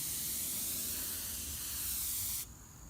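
A spray gun sprays adhesion promoter onto a car, giving a steady, close airy hiss that cuts off sharply near the end, leaving a faint, quieter hiss.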